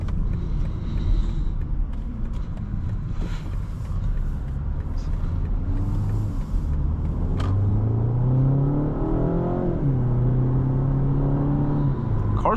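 A 2025 BMW 228 xDrive with a dual-clutch transmission pulls hard from inside the cabin, its engine rumble rising in pitch, dropping sharply at a quick upshift, then climbing again, loud and steady throughout.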